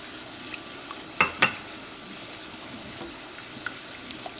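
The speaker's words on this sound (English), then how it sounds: "And you're just going to keep stirring until it starts to thicken up." Egg yolks and evaporated milk are stirred in a pot as the German chocolate cake filling thickens, a soft, faint scraping with two quick utensil clinks against the pot.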